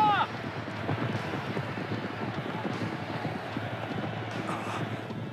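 Racehorse hooves pound in a drumming gallop during an animated horse race, a continuous rumbling beat mixed with wind-like rushing noise and a brief cry at the start.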